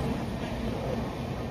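Inside a moving passenger train, a steady low rumble and wheel roar fills the brief stretch without any clear speech.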